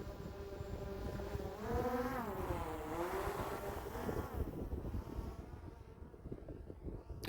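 DJI Mavic Air 2 drone at full forward throttle, a thin buzzing whine that rises and wavers in pitch, quiet and partly buried under wind noise before fading toward the end.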